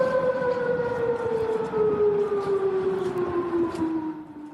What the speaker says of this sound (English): Those are the sirens in Bahrain